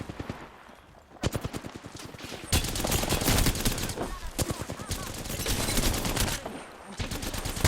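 Rapid automatic gunfire from a firefight in the battle royale game Apex Legends, with dense bursts of shots starting after a second and continuing almost nonstop, loud and close, while a player talks over it.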